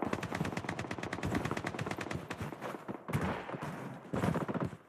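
Automatic gunfire in the shooter game Project: BloodStrike, dense rapid bursts of shots close and loud, with short pauses between volleys.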